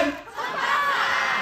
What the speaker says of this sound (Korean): 추석이라고 첫 박수 한번 크게 해주세요